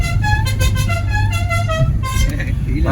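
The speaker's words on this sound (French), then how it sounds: "Un petit klaxon ou quoi?" A car horn toots briefly amid steady road traffic, with people talking over it nearby, from a Renault Super 5 GTS.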